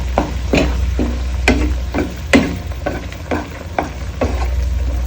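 Fish frying in a pan for a Bengali fish curry with mango, with loud sizzling under a series of sharp, rhythmic scraping stirs, about a dozen strokes, close and clear with no talk.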